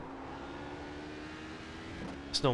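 An HPD race car engine droning at steady pitch at Interlagos in a racing game, a continuous tonal hum that rises sharply into a short rev at the end.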